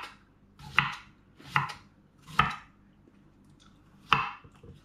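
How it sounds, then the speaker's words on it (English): Carrots are chopped with a knife on a board in four crisp, evenly spaced strokes, each a sharp close thud with a short scrape, and the pauses between them are quiet. "I'm going to just chop it up, slice it with a knife"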